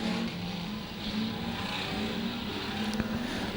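Street stock race cars rumble together at the start of a heat race, a steady loud engine drone with a sustained low hum and a brief sharp crack near the end.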